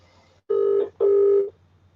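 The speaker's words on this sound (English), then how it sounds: "I'm gonna ring Robo Boy and get him to go around" A telephone ringback tone while a call is placed: two loud, steady electronic tones, each about half a second long, separated by a short gap over a low hum, with no talk.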